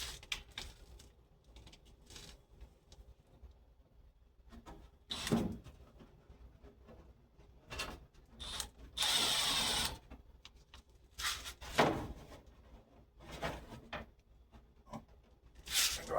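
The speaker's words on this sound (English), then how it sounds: "take one of their self-tapping screws and kind of nail it down like that" A self-tapping screw is driven into a lower door panel with speaker pods in a Cutlass, short close buzzing bursts from the driver with clicks and handling noises between.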